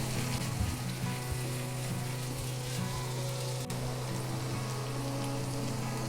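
Chicken pieces with peas and carrots sizzling in a pan for noodles, a constant close frying crackle with faint stirring clinks and a steady low hum underneath, no voices.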